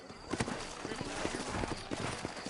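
Horse hooves clip-clop steadily in Red Dead Redemption, a run of close, regular hoofbeats with voices talking over them.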